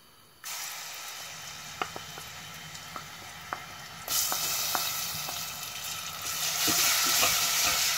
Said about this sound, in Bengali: রসুনটা একটু লাল করে লাইমু